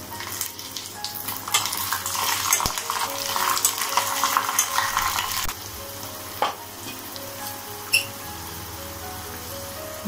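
Spices and green chillies sizzle steadily in hot oil for a savoury millet tempering, with occasional stirring and a couple of sharp utensil clinks as the frying noise drops lower partway through.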